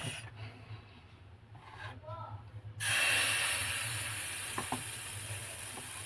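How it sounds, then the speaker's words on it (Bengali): Homemade Bengali patishapta crepes frying in a pan: quiet at first, then a sudden loud, steady sizzle that keeps hissing evenly to the end, with a couple of faint clicks. "এরম করে প্রতিটা পাটিসাপটা ভেজে নেবেন।"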